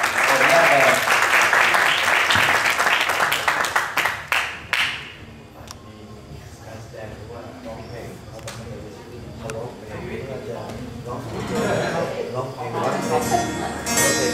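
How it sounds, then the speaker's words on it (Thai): Audience applause for the grade 11 (M.5) class opening a school performance, loud and dense for about five seconds before dying away into a quieter murmuring room where voices talk. "ขอเสียงปรบมือนะครับ"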